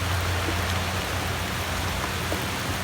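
Steady rain falling outdoors during a camp cooking session where tortillas are being prepared, a dense, even hiss of drops spread continuously across the whole stretch with no talking.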